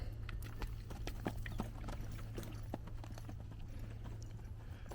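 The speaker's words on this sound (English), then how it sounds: "Like she's loping. You want her to lope." A horse lopes in a canter during groundwork training, steady rhythmic hoof clip-clops on the ground, close and continuous throughout without voices.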